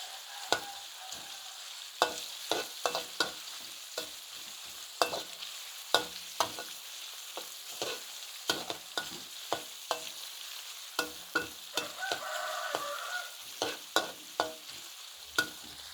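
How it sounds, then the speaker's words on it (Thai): Sun-dried pork stir-fried in garlic-infused oil in a pan: a steady close sizzle broken by frequent sharp spatula scrapes and knocks in an irregular rhythm, with no talking. "เราก็ใส่หมูแดดเดียวลงไปผัด น้ำมันที่เราเจียวกระเทียมนั่นเลยค่ะ"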